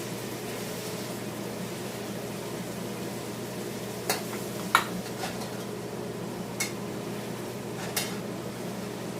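Pork stir-frying in a hot pan gives a steady, low sizzle and hiss, broken by a few sharp utensil clinks and scrapes against the metal partway through. No one speaks.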